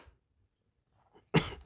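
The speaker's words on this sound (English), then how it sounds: "Sometimes the odor of the ballistol makes me cough a little bit." A single short, sharp cough from a man cleaning a revolver with Ballistol, close and loud after near silence, with a faint breath just before it.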